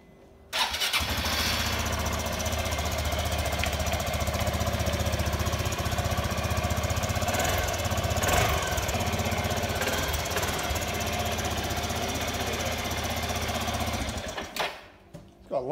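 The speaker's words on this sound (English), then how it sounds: "And let's turn it on for you." A 2004 Suzuki AN400 Burgman scooter engine starts up and idles steadily with a loud, even buzzing rumble, then cuts off near the end.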